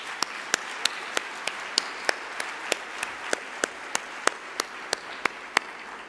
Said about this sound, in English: join me in thanking all of our sponsors for making this policy conference possible with a round of applause